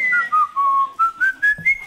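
Someone whistles a short melody, clear and close, with gliding pitch changes and brief pauses between phrases.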